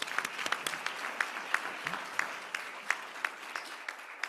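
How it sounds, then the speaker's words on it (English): An audience at the Epilepsy Foundation Shark Tank 2024 competition claps in a moderate, even round of applause with distinct individual claps standing out, held at a steady level throughout. "Please join me in a round of applause."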